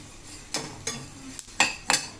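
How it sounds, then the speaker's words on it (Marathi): Niger seeds dry-roasting in a kadai for traditional Satara-style chutney, a few scraping strokes of a spatula with short rustling bursts over a quiet background. "कारळे असे भाजून घ्यायचे व्यवस्थित"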